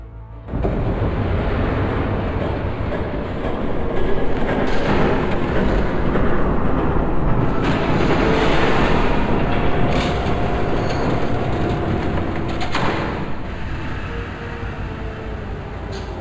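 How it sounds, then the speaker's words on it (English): Train approaching in Batman The Telltale Series: a loud, sustained rumbling roar of rolling wagons with metallic rattling and brief screeching surges, swelling in after a quiet start and staying heavy to the end. "There's a train coming."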